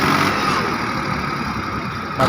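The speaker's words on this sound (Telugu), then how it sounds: "మా మామ ఇప్పుడు ట్రాక్టర్తో మట్టి తప్పిస్తున్నాడు ఫ్రెండ్స్." A tractor engine runs at a steady, loud, close rumble as it packs down soil, its droning hum staying even throughout with no break.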